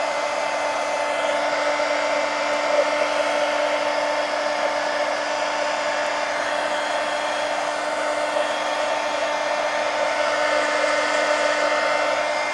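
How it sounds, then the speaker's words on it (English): A heat gun blows a steady, loud, even whine and airy roar while drying craft paint on journal pages, continuous and close with no talking. "Heat gun."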